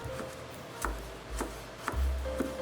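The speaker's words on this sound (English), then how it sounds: "Chop 1/8 cup of carrot into thinly sliced pieces" Knife chopping a carrot into thin slices on a board, a few soft, widely spaced thuds, quiet and close, with no voices.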